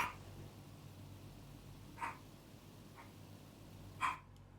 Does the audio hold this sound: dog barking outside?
yes